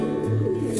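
A red-banded pigeon gives a short, close, low cooing call in a loft, brief and soft-edged with faint background sound.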